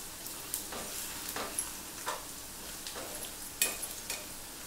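Potatoes sizzle and fry in hot oil in a home kitchen, a steady hissing crackle with occasional louder spits and stirring scrapes throughout, with no talk.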